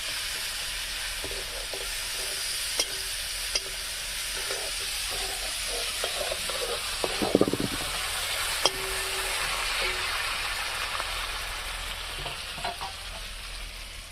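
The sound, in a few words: tomato and onion frying and being stirred in oil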